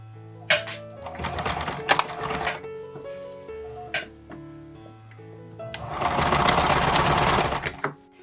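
A sewing machine stitches a small vintage-style doll dress in loud, close bursts with brief pauses and clicks between runs.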